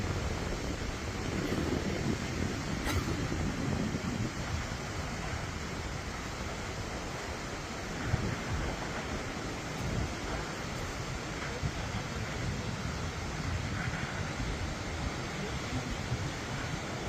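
Vasudhara waterfall in Uttarakhand pours down forcefully, a loud, unbroken broadband rush of falling water that stays steady throughout with faint wind noise on the microphone.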